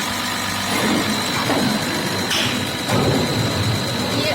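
Electric motor of a 12PSB diesel fuel injection pump test bench spinning up and running, a loud steady mechanical whir with a constant high whine and a broadband hum throughout.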